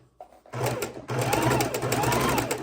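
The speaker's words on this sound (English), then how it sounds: "We're going to sew the other one right on this line. We're just going to stick it straight across." A sewing machine stitches quilt fabric straight across a marked line, running with a steady loud whirring hum for about two seconds after a brief start, alone and close.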